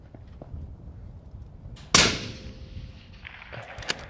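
A single suppressed rifle shot fired from a double kneeling position through an Otter Creek Labs Infinity suppressor brake, a sharp, close crack with a short decaying tail, alone in a quiet outdoor setting.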